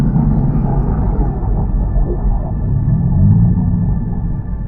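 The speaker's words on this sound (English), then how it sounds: "Blue whale vocalizations can reach an astonishing 188 decibels" A blue whale vocalizes in a deep, continuous underwater moan, a loud low rumble sustained without pause for several seconds.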